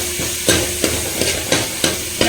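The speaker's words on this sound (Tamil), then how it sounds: "சேர்த்துட்டு இப்போ நல்லா நம்ம இதை வதக்குன்னு வதக்கலாம்" Onion and curry leaves sautéing in oil for a tiffin-style dal, with a steady background sizzle and a spatula scraping the pan about every third of a second in a regular rhythm, close and alone.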